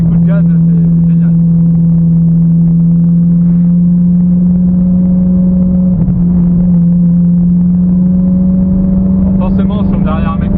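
Ferrari engine holding a steady loud drone with slight pitch shifts from brief throttle blips on a downshift, heard from inside the car with faint talk.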